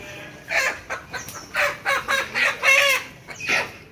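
Several close native chickens at a chicken shop cluck in short, uneven bursts, one bird after another, fairly clear over a quiet background.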